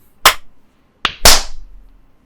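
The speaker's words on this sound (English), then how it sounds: "Let's clap. 3, I'm ready to go. 2," Sharp, isolated hand claps in a quiet room during a podcast recording session: one crisp clap, a pause of under a second, then two more close together, each dying away quickly.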